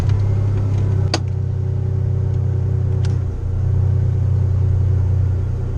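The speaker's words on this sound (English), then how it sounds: "I'm going to start the engine, then I'll slowly start driving out of the neighborhood." A car on BFGoodrich KM2 tires idles and pulls away slowly through a neighborhood, a steady low engine rumble heard from inside the cabin with the radio and air conditioning off, plus a couple of faint clicks and no talking.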